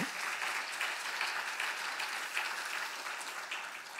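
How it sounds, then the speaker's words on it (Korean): A church congregation at a Wednesday worship service applauds the praise team, a steady, even wash of many hands clapping throughout, moderately distant and without talk. "우리 찬양팀에게 우리 격려의 박수 한번 해주시고"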